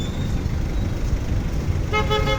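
Busy town street traffic on foot near a supermarket and plaza, with a steady rumble of passing cars and a clear horn toot near the end, fairly loud and close.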